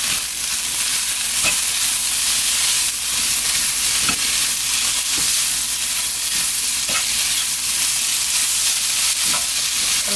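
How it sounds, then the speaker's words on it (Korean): Spinach stir-fried in a hot pan for japchae, a loud steady sizzle with occasional scraping stirs throughout. "양이 적을 때는 이렇게 바로 이렇게 볶아서 드시겠습니다"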